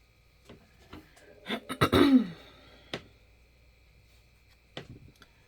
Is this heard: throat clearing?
yes